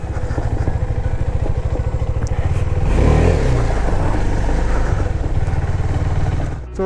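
A KTM Duke 390 BS6 motorcycle rides through deep water on an off-road route, its engine droning with a steady pulsing thrum while a louder surge of splashing swells in the middle and then settles.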